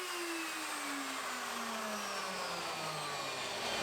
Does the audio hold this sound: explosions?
no